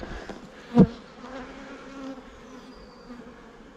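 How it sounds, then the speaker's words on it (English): Honey bees buzz around a beekeeper during a honey harvest, a faint steady hum with one brief louder pass close by. "Why, am I covered in bees?"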